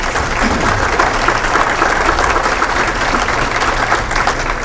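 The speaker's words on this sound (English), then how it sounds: "Please give him a round of applause." Steady, loud audience applause fills a veterans' dinner social in North Reading, Massachusetts: dense, continuous clapping with no break and no one speaking over it.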